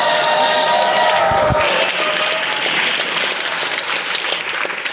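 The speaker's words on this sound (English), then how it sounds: "You're clapping now" Audience applause fills a big stage venue, steady dense clapping with some crowd noise, loud and sustained throughout.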